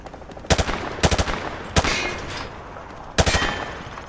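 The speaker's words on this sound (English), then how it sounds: "He sprayed bullets all over the damn place." An automatic rifle in Call of Duty Modern Warfare 2 fires at targets on a training range: four sharp, loud bursts of rapid shots, each trailing off into a short echo, with no voices.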